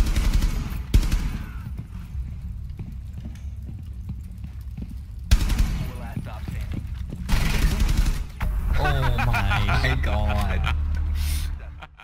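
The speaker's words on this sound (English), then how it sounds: "Shots coming through the wall at the teammate looks over, immediately headshots him." Rainbow Six Siege gunfire fired through a wall, with sharp, loud shots landing in a few separated bursts between stretches of quieter in-game sound, and an excited commentator talking over it.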